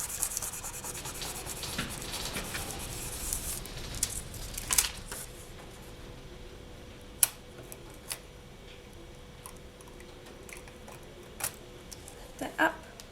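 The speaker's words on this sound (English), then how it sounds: "I'll give it one more burnish." Polymer clay being burnished by hand, soft intermittent rubbing and faint scraping with small ticks and taps, close and quiet, with occasional light talk.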